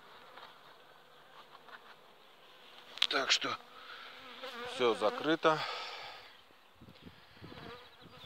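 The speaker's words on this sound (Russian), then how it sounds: "Отсюда вот пчелы тоже летят." A steady buzzing of many honeybees flying from a hive entrance close by, with individual insects droning past loudly, and someone briefly speaking over the hum.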